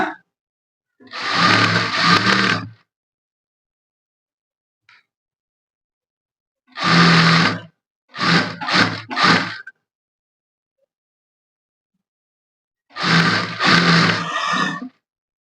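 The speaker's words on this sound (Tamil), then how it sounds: "இப்ப நான் அப்படியே ஸ்டிச்சிங் பண்ணிட்டே வரேன் பாருங்க" A sewing machine stitches along the edge of a sari, its motor running in loud, close bursts: a long run, a short one, a quick series of stop-start pulses, then another long run, with silent pauses between.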